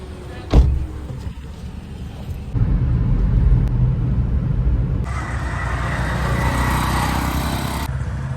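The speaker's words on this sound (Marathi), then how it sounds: "गाडी मी चालवतो." A car driven on a road to a temple destination in rural Maharashtra, with a steady engine and road rumble swelling partway through, then brighter tyre and wind noise at close range, no talk.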